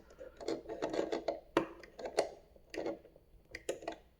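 Bolts are tightened by hand on a Hasbro HasLab Ghostbusters proton pack, giving quiet scraping, rasping turns and scattered clicks in short bursts close by.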